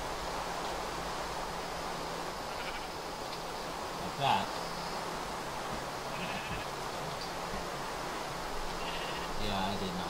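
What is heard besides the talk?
sheep bleating in the video game Minecraft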